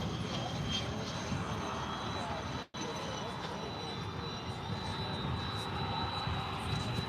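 A Boeing 767 taxiing around an airport at DFW gives a steady broad jet-engine roar at moderate distance, with a brief dropout partway through.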